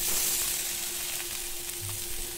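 Chopped pumpkin greens frying in a pan with green chilli, salt and turmeric, giving a steady, close, continuous sizzle with a faint low rumble beneath and no talking.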